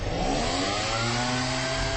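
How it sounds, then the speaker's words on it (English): Blower, similar to a leaf blower, inflating oil containment booms during a Gulf oil spill response, a loud, steady motor roar with a rough, buzzing tone that holds constant without a break. "Actually using the equivalent of a leaf blower to blow up these booms and get them filled up with air like balloons."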